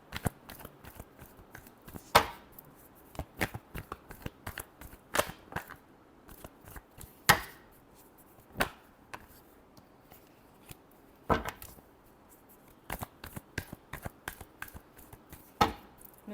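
Tarot cards being shuffled during a Scorpio horoscope reading, a series of sharp, close riffling snaps and crisp taps at irregular intervals over a quiet background.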